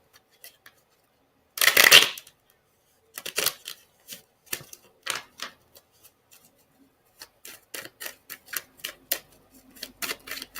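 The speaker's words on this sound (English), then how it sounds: "I don't even usually shuffle these cards right now." A quick riffle of tarot cards up close, followed by a series of soft taps and flicks as the deck is handled and squared.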